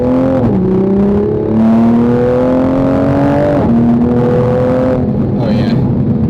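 A 2021 Toyota Supra A90 with a cat-less downpipe exhaust revs up and settles, its engine note rising in pitch, dipping, then climbing again, close and loud with a steady throaty drone throughout.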